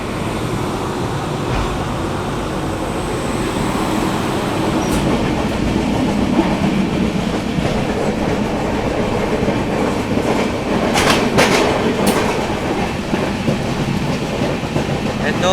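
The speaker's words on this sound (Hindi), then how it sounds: "So this is the Danapur Bangalore Sangamita Express with Gonda Web 7." The Danapur–Bangalore Sangamitra Express with a Gonda WAP-7 locomotive rumbles steadily past a moving train in the rain, a loud, continuous roar with faint clattering wheels and occasional brief squeals.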